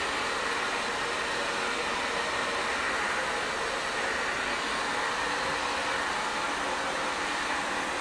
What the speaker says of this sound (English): I can really start to kind of dry through.